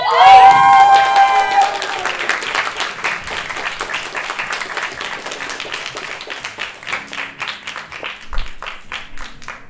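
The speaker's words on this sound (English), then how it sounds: "a very, very special round of applause to a graduate of the Hive now" An audience at a live show breaks into applause with some cheering for a young graduating performer, starting loud with a bright sustained tone at the outset, then settling into steady dense clapping that continues throughout.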